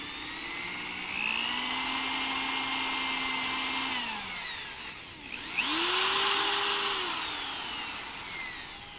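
Power drill driving self-tapping screws into a greenhouse hoop, two loud close whirring runs that climb in pitch, hold steady, then wind down, separated by a short pause.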